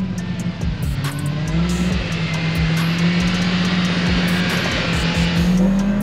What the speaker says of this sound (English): ripping in the murdered out Pro R. Is he gonna wheelie it?